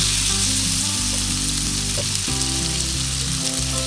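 Lamb chops sear in butter and olive oil with a loud, continuous sizzle and hiss, while steady background music plays underneath.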